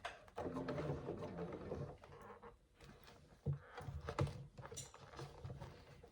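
A sewing machine stitches a handbag in short bursts of mechanical whirring and tapping, separated by pauses and small handling clicks, fairly quiet and close.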